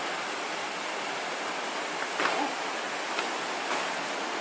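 Rushing water at Ghora Mar waterfall, a steady broadband roar heard close and fairly loud, with faint splashes rising briefly above the constant flow and no speech.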